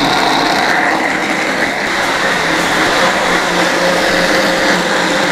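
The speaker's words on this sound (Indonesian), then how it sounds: "Ini di blender sampai halus ya" Blender grinding soaked chili spice paste for Indonesian seasoning, a dense, loud, continuous high whirring roar held evenly throughout without pause.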